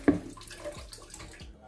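Water splashes briefly into a bowl of flour as dough is mixed for mooli paratha, a quick close pour lasting under two seconds with no talking.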